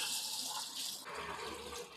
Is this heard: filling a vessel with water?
yes